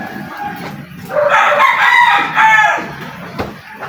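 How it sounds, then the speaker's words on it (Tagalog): A rooster crows loudly once, a long harmonic cock-a-doodle-doo close by, with faint background noise before and after. "Manok naman siya."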